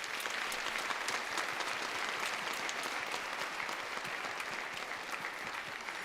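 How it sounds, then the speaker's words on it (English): Sustained audience applause at a youth band festival in Mitchell, honoring a music store sponsor; dense, steady clapping from a large crowd lasting throughout, with no talk over it. "So please help me with giving them a round of applause."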